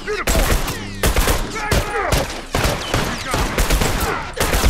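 A fast fusillade of gunfire in The Last of Us, with loud, close repeated shots in dense bursts and short gaps between them.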